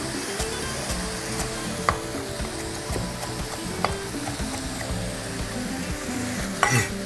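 Chili bean mixture stir-fries in a pan with a constant close sizzle, and sharp clacks of a spatula against the pan land now and then.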